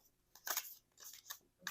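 A Metanoia Marseille tarot card deck is shuffled by hand, a few quick, crisp riffling and flicking bursts of paper cards, close and alone.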